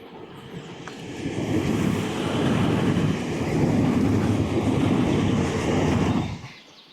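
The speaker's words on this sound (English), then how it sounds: "I just hope the train don't come right across and frighten the bejesus out of me as I go under it" A train crosses a railway bridge nearby, heard from a kayak passing beneath on the Basingstoke Canal, a heavy rolling roar that swells, holds for several seconds, then fades out.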